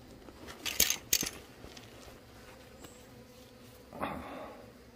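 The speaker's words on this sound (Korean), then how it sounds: "골통 입구에 말벌이." Hornets buzz faintly around a beehive entrance, with a few short sharp bursts and thin wingbeat hum over a quiet background.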